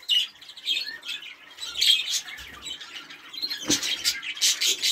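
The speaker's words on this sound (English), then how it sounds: "In this cage, we've just got our canary." A caged canary gives close, bright chirps and short squawky trills, continuous and fairly loud, with a few sharper notes standing out near the end.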